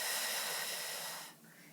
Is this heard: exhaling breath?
yes